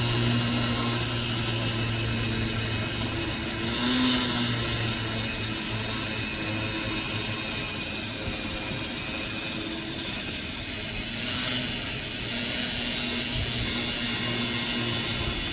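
A rotary tool spinning a soft horsehair burr at roughly 8,000 to 12,000 RPM while polishing fire agate stones, a steady high whine with a gritty brushing texture that holds for the whole span without talk.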